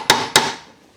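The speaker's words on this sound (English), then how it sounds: "Gentle tap, let's give it a go." Two sharp hammer taps on a front-wheel-drive gearbox casing being fitted with a limited-slip differential, close and alone, each strike ringing briefly before fading out.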